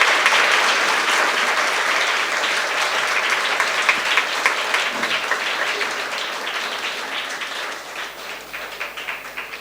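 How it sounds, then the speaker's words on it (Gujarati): Sustained applause from an audience welcoming the actress who plays Tulsi in the Gujarati film Lalo, at a school and home for the blind; steady, dense clapping throughout that thins slightly toward the end. "આપણે સૌ એને તાળીઓથી આવકારીએ"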